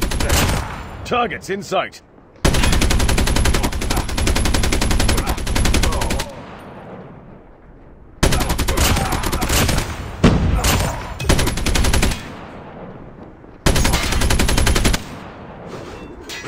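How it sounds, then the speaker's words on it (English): Automated sentry gun in a zombie shooter game firing in long sustained bursts, loud and close, with short pauses between volleys and a game voice speaking over the start. "Sentry gun deployed."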